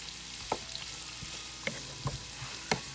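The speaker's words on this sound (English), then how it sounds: "Now we're gonna let that garlic cook in for a moment." Garlic frying in a pan for Southern-style fried cabbage with sausage gives a quiet, steady sizzle, broken by a few soft clicks and stirring taps, with no talk.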